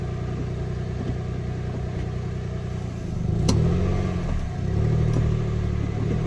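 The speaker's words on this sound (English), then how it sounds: "Exhaust sounds like it's blowing from that joint." A Peugeot 107 engine idles with a rough, puffing exhaust note from a blowing exhaust joint, then revs up twice, the chuffing growing louder and throatier before settling back.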